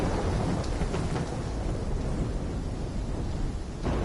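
Thunderstorm in Call of Duty Black Ops 3, a loud, dense wash of heavy rain and rolling thunder filling the whole stretch, with a fresh rumble surging near the end and no talk.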